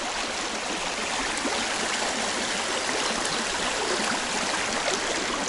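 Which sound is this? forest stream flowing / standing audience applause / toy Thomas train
forest stream flowing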